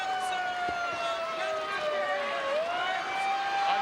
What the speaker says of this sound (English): Listen to that horrible siren.